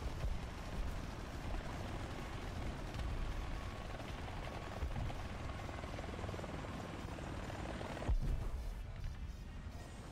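Helicopter rotors from the War Thunder video game thump loudly and continuously throughout, mixed with dense battle rumble and a sharp crash-like burst near the end.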